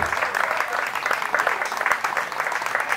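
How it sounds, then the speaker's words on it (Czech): Steady applause from an outdoor audience at a Czech accordion players' gathering, following an accordion performance; dense, continuous clapping close by that holds throughout without talk. "já myslím, že to zaslouží potlesk"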